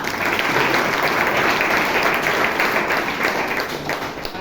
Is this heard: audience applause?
yes